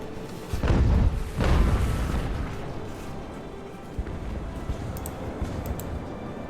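Cannon fire striking a ship in the naval battle game Ultimate Admiral: Age of Sail, at the Battle of San Juan. Two heavy booms land close together near the start, then a low rumble fades under soft distant pops.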